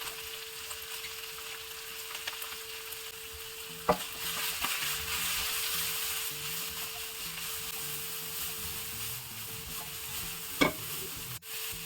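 Broccoli, carrot and other vegetables stir-fry in a pan for a spicy veggie wheat pasta, giving a steady sizzle with occasional sharp scrapes and clinks of a spatula, close and without talk.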